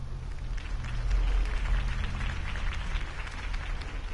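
Crowd applause after a campaign speech in the Telltale Batman video game forms a dense, continuous patter of many hands clapping at moderate loudness, without speech.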